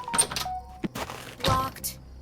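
Locked door in the horror game Horror Tale 2 giving dull thunks as it is tried, several short knocks scattered across a couple of seconds, with a voice talking between them.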